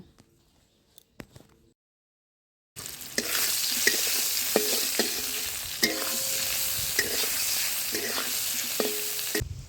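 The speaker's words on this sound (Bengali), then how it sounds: "সামান্য লবণ হলুদ দিয়ে আলুটাও ভেজে তুলে নেব।" Potatoes with salt and turmeric hit hot oil in a wok after a few quiet knocks, then fry in a loud continuous sizzle with occasional stirring scrapes and clicks.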